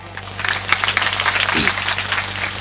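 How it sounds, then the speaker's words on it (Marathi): An audience at a kirtan claps together in a brief, dense burst of applause, close and fairly loud, with a low steady hum underneath. "एकदा वाजवा का यांच्यासाठी टाळ्या"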